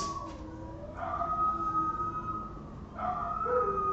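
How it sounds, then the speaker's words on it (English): Dogs howling in long, wavering tones, two drawn-out howls with overlapping voices, set off by a passing ambulance, heard from a moderate distance with no talking. "Can you guys hear those dogs going off like crazy?"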